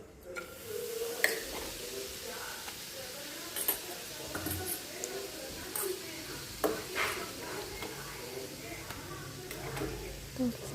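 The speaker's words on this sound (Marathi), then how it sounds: "मसाला फ्राय करून घ्यायचा" Onion-garlic masala with red chilli powder and turmeric fries in hot oil in a kadhai, a faint steady sizzle with occasional scraping stirs and utensil clinks throughout.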